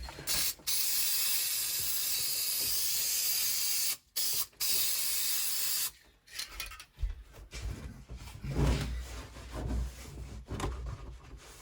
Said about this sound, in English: spraying some fresh glue here,